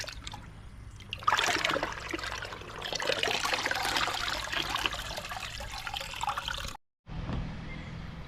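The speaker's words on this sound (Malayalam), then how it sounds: "നമുക്ക് ഈ പച്ചവെള്ളത്തിൽ പാൻറ് നല്ല രീതിയിലൊന്ന് കഴുകിയെടുക്കാം" Dyed pants are rinsed in plain water: a steady splashing and trickling of water as the fabric is worked, fairly quiet and close, with a brief pause before it resumes.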